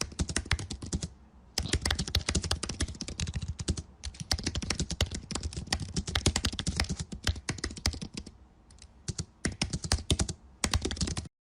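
Rapid keystrokes on a computer keyboard as a prompt is typed, dense clattering bursts with brief pauses, close and clear with no talking.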